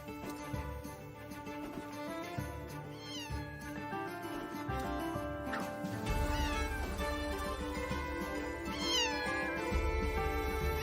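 Cat meowing heard amid a busy game showcase soundtrack, several rising-falling meows standing out over loud music and sound effects, with no talking.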